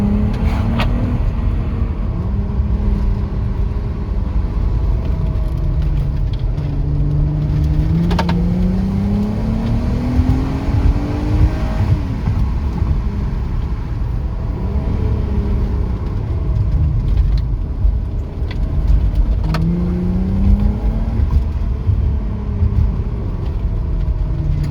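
A cheap, beaten auction Audi pulling under throttle while the automatic does the shifting: a loud, steady engine drone rising in pitch, dipping at each gear change and climbing again, with no talk.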